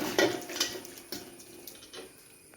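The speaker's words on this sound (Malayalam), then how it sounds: "ഇനി അതിലേക്ക് നമ്മൾ വെള്ളത്തോടെ ബീഫ് ഇടണം കേട്ടോ" Beef with its water tipped into a pan for beef varattiyathu gives a quick metallic clatter and a watery splash, followed by softer scraping and wet sounds, fairly quiet and close.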